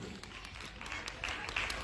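An audience at a dance competition claps, a faint, scattered patter of hands that grows slightly denser toward the end, with some voices mixed in underneath.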